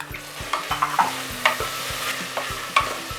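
Tomatoes and onions stir-frying in a pan for veg kurma, with repeated spoon scrapes and taps against the pan over a soft continuous sizzle and a low background hum.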